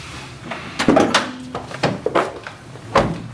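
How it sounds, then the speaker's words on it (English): Trunk lid of a Honda Civic Si being opened: a few short latch clicks and knocks with a brief low creak, close and fairly quiet, with no talking. "let me open the trunk"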